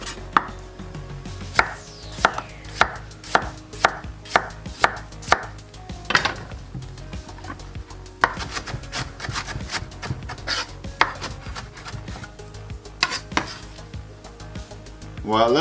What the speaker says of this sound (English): chop some onion. And the tomatoes.